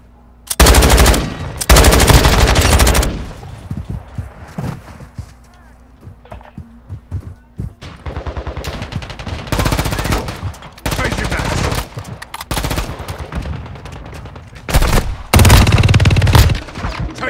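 Bursts of automatic machine gun fire in the mobile shooter Warzone Mobile during a multiplayer hardpoint match, several loud sustained volleys separated by quieter gaps, with a little game voice in between.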